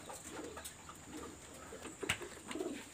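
Pigeons kept for breeding, with leg rings, coo faintly in a quiet pen, soft low murmurs under a steady background hiss and a sharp click near the end.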